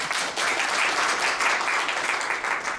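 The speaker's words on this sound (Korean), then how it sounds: "고생하셨다고 박수 한번 부탁드리겠습니다" Audience at an aviation industry forum gives a steady round of applause, a dense, even wash of clapping filling the hall without pause.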